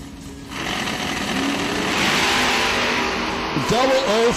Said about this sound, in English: Whole lot of Ford motor under that hood.